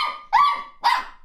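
A dog barks two or three times in quick succession, loud and close, with no other sound around it.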